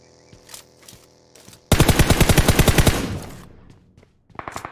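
Video game gunfire: a few scattered single shots, then a loud rapid automatic burst of about a second and a half that trails off, followed by another short volley near the end.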